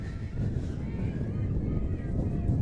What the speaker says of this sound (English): Out here, windy day, y'all. Very windy out here.